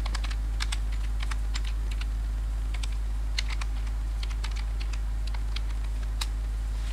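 Rapid, uneven clicking of keys on a computer keyboard, continuous bursts of typing close by over a steady low electrical hum.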